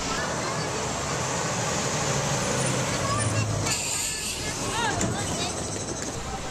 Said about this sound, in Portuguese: passam motos, bicicletas, carros e caminhões.